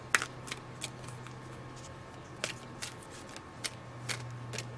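A deck of oracle cards is shuffled by hand nearby, giving a string of soft, papery slaps and flicks at irregular intervals over a quiet background.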